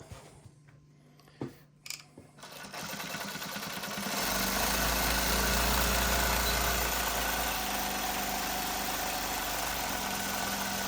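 A Juki LZ-2284 single-needle lockstitch industrial sewing machine sews a 3-step zigzag stitch, opening with a few sharp clicks before the motor ramps up into a steady, loud, close whirring run.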